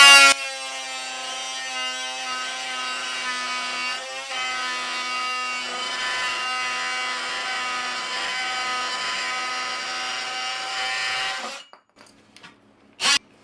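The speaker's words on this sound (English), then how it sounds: "take one of these oscillating saws" An oscillating saw buzzes steadily through wood during a bathroom remodel, holding a loud, even, tonal whine for about eleven seconds before cutting off, followed by a couple of faint knocks.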